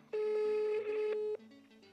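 A telephone call is dialed: a single sustained electronic dial tone sounds for about a second, then fades into faint quieter tones, clean and close.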